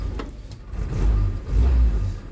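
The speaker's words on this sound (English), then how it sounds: "Good old 6-volt electrics on a tight engine" A Willys jeep engine with old 6-volt electrics runs rough, then revs up twice in deep swelling surges, loud and close with a low rumbling throb between the rises.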